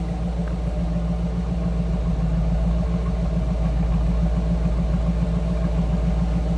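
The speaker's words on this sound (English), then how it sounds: "Just a nice sounding running car" A 1966 Ford Mustang convertible with a 289 V8 idles steadily nearby, a smooth, even low rumble with a mild stock cam and quiet exhaust, constant throughout with no revving.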